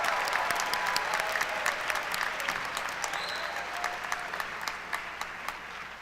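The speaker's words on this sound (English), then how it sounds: "Another round of applause for those receiving graduate degrees and diplomas." At a university commencement ceremony, a large crowd applauds graduates receiving degrees, a dense wash of clapping with distinct individual claps popping through, holding steady throughout.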